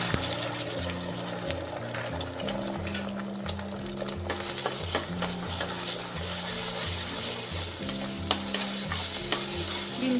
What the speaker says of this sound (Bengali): ডিমটা ভাজা করে ডিম ভেজে নেব।